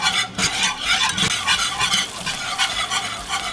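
Red wine being stirred and reduced in a pan for au jus, a steady wet sizzle under continuous close scraping and stirring, with no voices.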